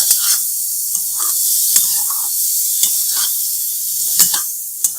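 Chickpeas roast in a hot pan with a loud, continuous sizzle, punctuated by several sharp scrapes and clacks of a spatula stirring them up close.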